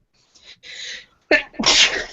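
A single sharp sneeze, preceded by a quick intake of breath, close and loud.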